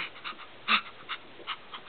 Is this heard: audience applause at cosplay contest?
no